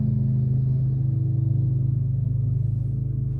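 Lawn mower running outside, a steady low engine drone that stays muffled and moderately distant for a few seconds, with no talking.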